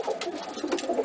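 Racing pigeons coo in a loft, a soft continuous murmur of overlapping low calls with a few louder swells, close by and with no talk.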